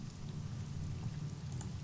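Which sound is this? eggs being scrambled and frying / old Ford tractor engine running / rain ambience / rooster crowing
rain ambience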